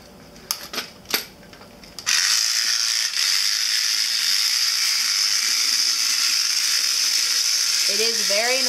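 After a few clicks as the switch is flipped, an Artec Robotist turn robot's motors and gears kick in with a loud, steady mechanical whine and grinding rattle that keeps running close by, with a brief warbling shift near the end.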